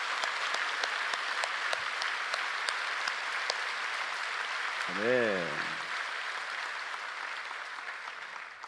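Church congregation at a Friday night service claps steadily in a broad wash of applause, with a brief tonal sound midway and a short spoken word.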